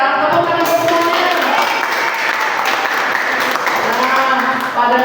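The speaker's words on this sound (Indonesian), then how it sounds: "Tepuk tangan buat semuanya." A group of children at a church children's class clap together, a loud sustained burst of applause with a voice talking over it.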